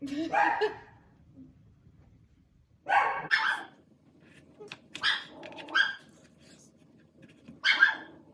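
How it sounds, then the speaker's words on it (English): A dog barks in several short bursts spaced a few seconds apart, fairly close, with quiet gaps between. "if you hear my dog, I'm sorry"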